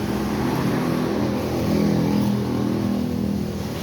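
A car engine sputters, running roughly with an uneven, lumpy drone, rising slightly in the middle before settling back, close and fairly loud.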